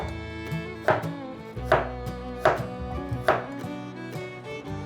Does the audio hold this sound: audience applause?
no